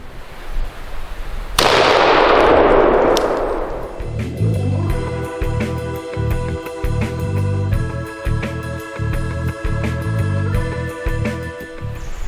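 A single sharp shotgun blast fired at 20 yards at Edge safety glasses on a cantaloupe target rings out loud and decays over a couple of seconds, followed by steady rhythmic music.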